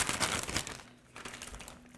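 A plastic bag crinkles and rustles in short bursts as tequila marinade is bagged for meat, close and quiet with no talk over it.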